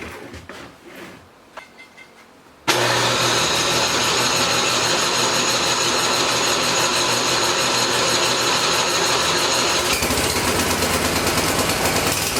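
A Husqvarna chainsaw roars to life outdoors in snow while cutting diamond willow, sudden loud buzzing engine that runs steadily and close, rising slightly in pitch near the end, after a few quiet handling noises.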